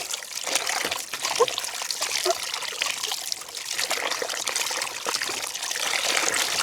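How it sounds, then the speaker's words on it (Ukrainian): Running water trickles and splashes steadily as goby fish (Dnieper river bullhead) are rinsed under a tap, a close, continuous stream with small splattering bursts throughout. "вимиваємо до тих пір, поки не буде прозрачна вода"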